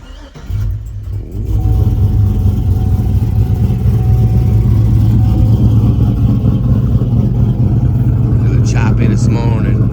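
A 2004 Chevrolet Silverado truck engine cold starts with a brief cranking burst, then settles into a loud, steady rumbling idle close by, with a light rev near the end.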